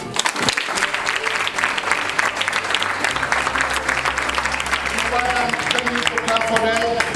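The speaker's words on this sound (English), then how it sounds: "I want us to clap for our lecturers." A university lecture audience of students applauds steadily, with dense sustained clapping from many hands throughout, loud and close.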